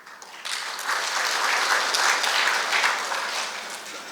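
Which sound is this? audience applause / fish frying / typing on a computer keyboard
audience applause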